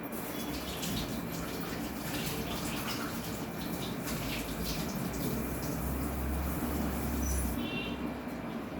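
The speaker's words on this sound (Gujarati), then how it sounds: "આપણે હાથ ધોઈ લઈશું." Hands being washed under a running tap, a steady, continuous rush of water with faint splashing throughout.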